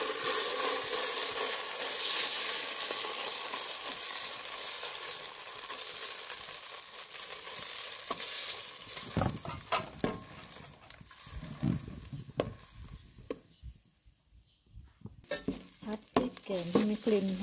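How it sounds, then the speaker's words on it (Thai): Oil sizzles steadily as Thai curry paste fries in a pot for chicken curry, with a spoon stirring and occasional clinks of metal against the pot, a voice speaking briefly near the end. "เอาพริกแกงลงไปผัดก่อนนะ"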